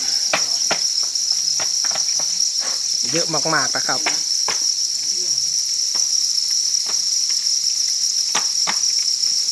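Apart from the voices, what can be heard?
crickets chirping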